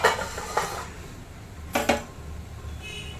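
A lid lifted off a pot of radish curd curry, giving two close metallic clanks with short ringing tails a second apart, over a steady low background hum.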